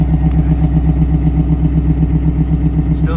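A 1998 Pontiac Trans Am engine idles close by with a steady, loud, even low rumble and regular pulsing, running rich after injector cleaning, with no talk over it.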